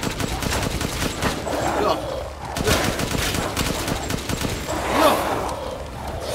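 Rapid bursts of gunfire from the video game Resident Evil Village, loud and close, mixed with a voice calling out over the shots.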